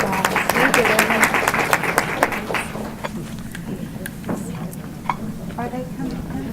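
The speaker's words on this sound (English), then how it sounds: "I hope you'll give them a round of applause" An audience at a medical treatment session applauds, with dense clapping loudest at first that thins to scattered claps before fading, and a voice is faintly audible beneath it.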